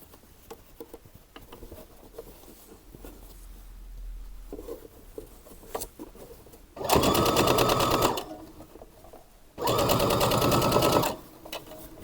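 A sewing machine stitching hems on a made-to-measure kimono top runs in two loud, close, steady whirring bursts of a second or so each, separated by quieter fabric handling.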